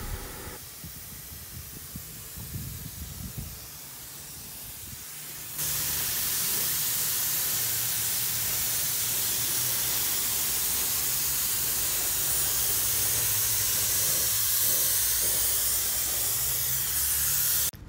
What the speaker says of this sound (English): he started laying really, really heavy coats and some of the paint started to run